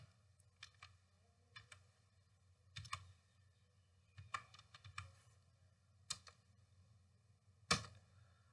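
A computer keyboard is used to type a budget name in Tally ERP.9 accounting software. Scattered soft key clicks come in small clusters over a low hum, quiet and close, with no talk.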